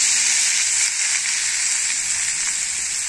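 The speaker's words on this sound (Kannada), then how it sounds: "ಒಗ್ಗರಣೆ," Onions sizzling in hot oil with mustard seeds, chana dal and curry leaves as tempering for upma, a loud, bright, continuous frying hiss close to the pan.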